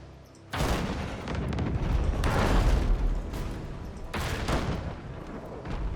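Repeated cannon fire in the naval video game Abandon Ship, with loud booming volleys starting after a brief quiet moment and rolling on continuously, with a second burst near the end.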